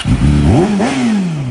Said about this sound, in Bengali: বাইকের সাউন্ডটা জাস্ট শুনো, দেখো কি জোস